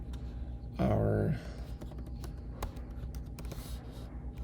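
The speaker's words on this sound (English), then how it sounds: "Let's start typing some code here." Rapid keystrokes on a computer keyboard while code is entered, a steady close clatter of taps running through the clip, with a voice speaking over part of it.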